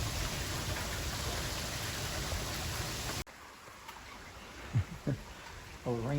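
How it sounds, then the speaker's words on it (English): Steady, dense rain pours during a Texas storm for about three seconds, then drops away to a faint patter with a few brief low thumps and a short burst of talk near the end. "Oh, the rain finally came in."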